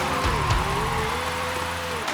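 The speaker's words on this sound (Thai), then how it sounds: "เสียงรถเสียงยางอร่อยมากทุกคน" A car engine revs and drones with a brief squeal of tires, loud and continuous, from the racing game Forza Horizon 5.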